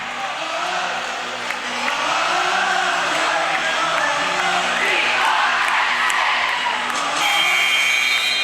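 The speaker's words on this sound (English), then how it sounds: "Crowd coming alive here." At a college basketball game between Penn State Altoona and Mount Aloysius, a gym crowd roars and cheers, swelling louder after the first couple of seconds into a sustained, excited din with whoops and shouts.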